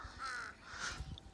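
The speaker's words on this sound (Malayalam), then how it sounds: "കാക്കള അതൊക്കെ തിന്നാൻ വന്നിരിക്കുന്നതാ" Crows caw near a pile of spoiled, discarded apples, two harsh drawn-out calls in quick succession, moderately close and otherwise alone.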